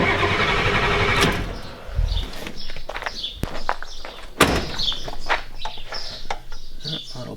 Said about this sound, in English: I'll crank her a little bit longer here. Get all that air out of there so that way I don't wreck it.